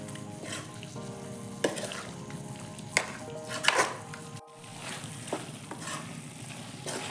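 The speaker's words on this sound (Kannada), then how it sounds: "ಒಂದೆರಡು ನಿಮಿಷ ನೀಟಾಗಿ ಮಸಾಲೆನ ಎಣ್ಣೆನಲ್ಲೇ ಫ್ರೈ ಮಾಡಬೇಕು" Stone-ground masala frying in oil for Nati-style chicken chops, a steady soft sizzle with occasional spoon scrapes and stirring clinks against the pan, close and moderately quiet, no talking.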